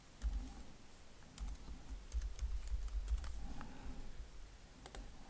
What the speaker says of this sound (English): And I'm just going to delete this and then type in again effects.